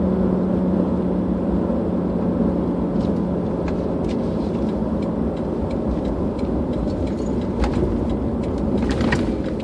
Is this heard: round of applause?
no